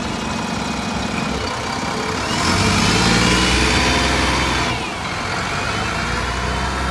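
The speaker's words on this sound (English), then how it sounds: "We've got a car running to the right and 2 buses waiting for it." A car and buses run at Lincoln Central bus station, a steady, loud engine idle with a swell of revving midway, then settling back to idle, with no talk.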